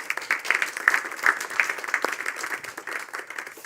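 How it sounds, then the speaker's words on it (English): Applause from a small audience closing an economic policy conference in Helsinki, light scattered clapping with uneven rhythm, fairly quiet and thinning over a few seconds. "I think we should give us a big applause to all of us."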